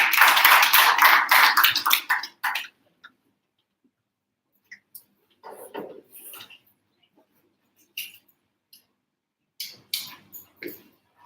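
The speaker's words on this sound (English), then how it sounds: "so please give him a round of applause" An audience at a blockchain technology workshop claps for the speaker, a burst of lively applause for about two seconds that stops abruptly, followed by scattered faint taps and small noises.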